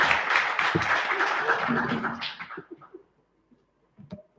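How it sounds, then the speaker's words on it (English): Audience applause at a CSR Research Foundation event, a dense burst of clapping that fades out after about two seconds, followed by a few scattered claps and quiet room noise. "For him, give a clarion clap"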